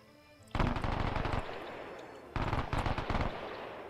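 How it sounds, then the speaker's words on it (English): An MG42 machine gun fires in the video game Arma 3, two sustained bursts of rapid, rattling shots separated by a short pause, sharp and fairly close. "Man, that MG sounds good."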